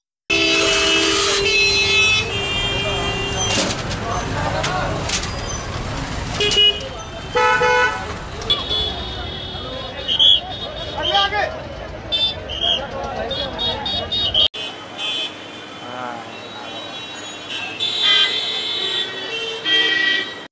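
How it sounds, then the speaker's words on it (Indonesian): Car horns honk repeatedly amid busy street traffic in Vrindavan, India, short toots overlapping with engine noise and voices in the background. "bahkan di gang kecil India selalu terdengar suara klakson"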